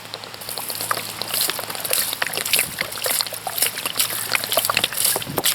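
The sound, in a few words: water poured over leaves and wood chips in compost worm tower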